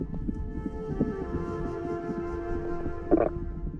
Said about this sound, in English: you will have just heard a manatee fart.